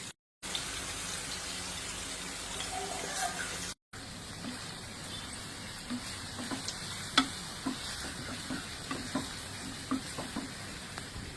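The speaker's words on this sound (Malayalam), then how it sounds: "ഇനി നമ്മൾ ഇത് ഫ്രൈ ആവട്ടെ." Shrimp frying in oil in a pan on a gas stove, a steady close sizzle with scattered pops and light crackles, briefly cut by two short gaps of silence.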